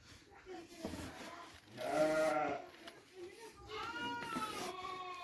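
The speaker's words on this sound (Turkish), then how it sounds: "Arkadaki karabaş olan İzmir'den gelen büyük sakız koçumuz" A big Sakız ram from İzmir, black around the eyes, gives a couple of wavering bleats close by, with quieter farm noise around it.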